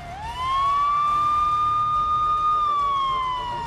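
A vehicle hooter-style siren rises quickly and then holds one loud, steady wailing tone, sliding slightly lower near the end. It sounds close and is heard alone.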